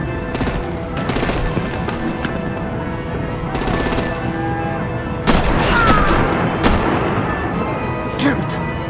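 Video game battle in Batman: The Enemy Within, with bursts of rapid machine-gun fire, artillery booms and gunshots in loud repeated volleys amid a chaotic fight, mixed with shouting voices.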